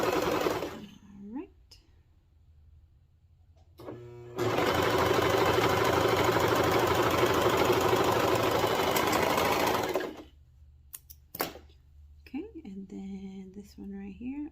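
Sewing machine stitching the swooped seam of overall shorties, a rapid rhythmic mechanical chatter running close and loud for about six seconds, with a person talking before and after the stitching.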